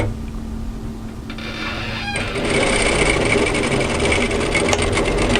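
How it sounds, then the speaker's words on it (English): A sewing machine stitches a 1 cm shoulder seam on a kimono kaftan. A quieter start gives way to a louder steady mechanical whir that runs evenly to the end. "So all you need to do is match the shoulder and sew with a 1 centimetre seam"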